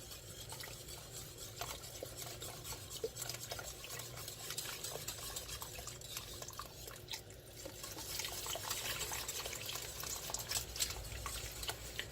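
A spoon stirring curry chicken and rice soup in a pot on the stove, a steady close scraping and sloshing with faint liquid bubbling and dripping throughout, no voices.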